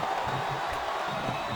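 Arena crowd in WWE SmackDown vs Raw 2007 cheers steadily as a distant, diffuse roar throughout a Triple Threat match with Undertaker, The Great Khali and Mark Henry, with voices talking faintly over it.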